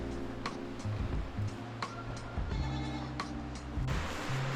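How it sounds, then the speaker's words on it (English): An old goat on a goat farm bleats in a few short, wavering calls, fairly close, over steady background hum and other barn sounds. "This goat is quite old,"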